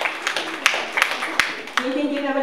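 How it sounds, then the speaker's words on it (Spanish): An audience at a special school program on girls in STEM bursts into applause, a short scattered round of clapping with sharp individual claps, then a voice begins over the fading claps. "Un aplauso."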